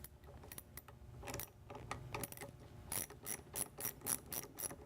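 A ratchet with a 1/2-inch socket tightens a bolt during an MT-82 transmission shifter install, giving rapid, close metallic clicking in repeated bursts that grow louder and more regular toward the end.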